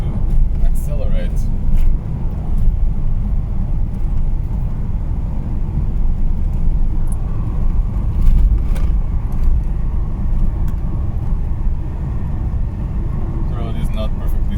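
An Alfa Romeo 33 climbs a rough hill road with a steady low engine drone and road rumble filling the cabin, loud and continuous with only faint ticks and knocks over it.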